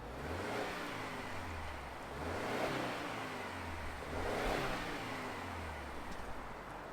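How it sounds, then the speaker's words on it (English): A 2023 Subaru Ascent SUV engine runs with a steady low rumble, swelling twice as it pulls away under acceleration, with broadband road and wind noise throughout and no talk. "let's fire up this large and in charge Subaru and see it in motion"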